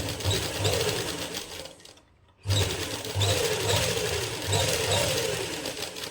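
A sewing machine runs fast along a seam on a baby's winter suit cap, whirring with a close rhythmic mechanical chatter that stops briefly partway through and then resumes at full speed.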